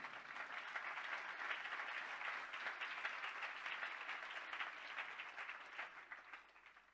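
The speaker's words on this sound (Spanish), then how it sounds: "Den un aplauso al Señor." A church congregation applauds the Lord during a Spanish-language sermon, steady, even clapping that sounds fairly distant and soft and carries on for several seconds without speech.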